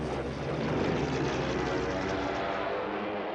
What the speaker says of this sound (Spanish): Los Stukas son bombarderos en picado equipados con sirenas.